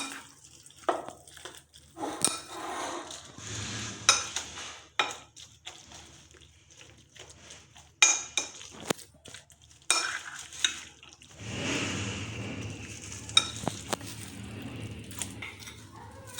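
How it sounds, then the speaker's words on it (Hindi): Besan is stirred into onion and potato for pakoras, wet squelching and scraping of a thick batter in a bowl, close up, in uneven bursts with short pauses between. "अब ये इसमें थोड़ा थोड़ा करके बेसन ऐड करते जाएं और इस तरह से मिक्स करते जाएं।"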